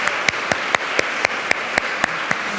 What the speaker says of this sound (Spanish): Que suene el Congreso con los aplausos.